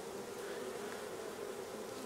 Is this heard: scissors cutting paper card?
no